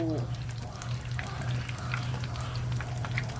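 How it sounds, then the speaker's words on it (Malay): Steady oily sizzling and crackling of curry puffs frying in oil in a pan, continuous and close, with faint clinks over a low hum. "goreng sampai warna dia terperang"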